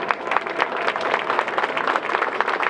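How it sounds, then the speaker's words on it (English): An audience at a musicians museum induction ceremony applauds an accordion player, with a steady crowd of hands clapping and individual claps standing out in an uneven rhythm. "Big round of applause for Eddie Lopez"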